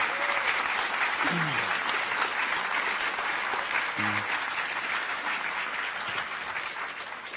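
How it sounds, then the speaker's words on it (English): Audience at a hacker conference closing ceremony clapping for the AV crew, a dense, sustained round of applause filling the hall, with a few voices calling out over it. "So let's just give them a quick round of applause for the amazing work they did."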